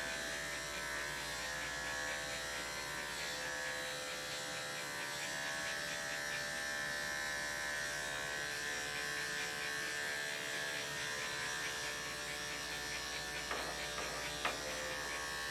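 Andis electric clippers run steadily on a dog's coat during grooming, a close, even, continuous buzzing hum with no talking.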